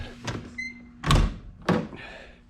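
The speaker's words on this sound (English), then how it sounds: "And suicide doors." Suicide door on a 1939 Chrysler with a 413 engine and dual quads shutting, two solid close-range thunks about half a second apart, with faint mechanical clicks before them and no talking.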